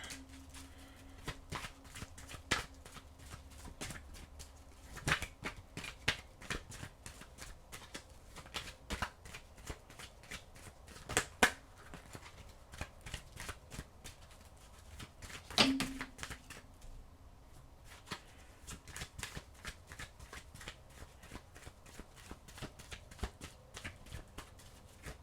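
Tarot cards are shuffled over and over in a steady run of soft, crisp riffles and taps, recorded close and quiet, with no talking.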